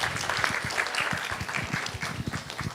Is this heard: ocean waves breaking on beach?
no